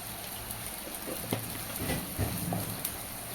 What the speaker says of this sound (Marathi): तर पाणी उकळत आहे